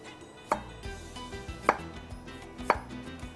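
Onion chopped on a board for a club sandwich garnish, three distinct knife strikes spaced about a second apart over a quiet kitchen background.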